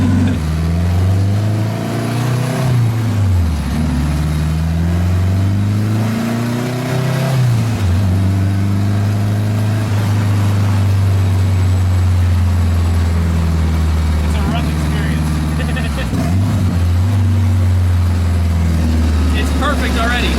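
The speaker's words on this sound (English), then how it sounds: "Just pulling out of the shop, I feel like this thing just about wants to do a wheelie already." Honda-powered 600 hp Smart car pulls out of the shop, its engine droning loud and close with repeated revs that rise and dip through gear changes, someone talking over the raw, vibrating rumble.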